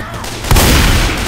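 Sudden burst of video game gunfire in a co-op shooter starts partway in, a loud booming blast that sustains into a dense rumbling fusillade to the end.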